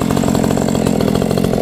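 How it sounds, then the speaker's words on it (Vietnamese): A chainsaw runs loud and close, cutting into a durian tree with a steady, buzzing drone throughout the brief moment. "cưa sầu riêng trước rồi mới cưa mấy cây kia ngã xuống được"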